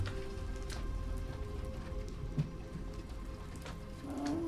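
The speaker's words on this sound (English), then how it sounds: "Yeah, you can hear the rain." Rain falls outside, a steady, even hiss with scattered drops and faint clicks, moderately loud and continuous, with no voices.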